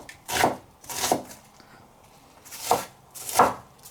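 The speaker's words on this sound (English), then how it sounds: "So fairly finely chopping all of this" A sharp knife chops red onion on a cutting board, fine-dicing for a curried sweet potato soup. Four distinct close thuds fall in two pairs with a short pause between them, and no one speaks.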